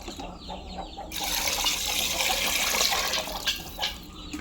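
Tap water runs and pours over small pieces of chicken being washed in a bowl, a steady rushing splash that starts after a quiet second and carries on with a few brief surges, no talking.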